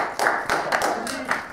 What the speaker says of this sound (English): sure, you can applaud for that